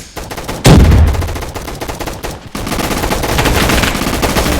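Bursts of rapid gunfire from a gun in the Roblox video game, a loud sudden volley followed by sustained repeated shots, alone without talk.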